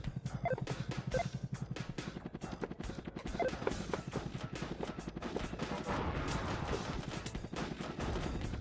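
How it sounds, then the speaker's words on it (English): Fireworks go off outside in a rapid, crackling string of bangs that runs continuously, heard from indoors over a steady background of game sound. "Oh, there's actually fireworks happening now. Outside, I thought that was like amazing stereo sound of the game."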